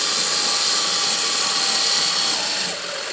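Power drill driving a screw through the mounting plate of a wall-mounted electric car charger, a steady high whine that holds loud and close for several seconds, then eases slightly near the end.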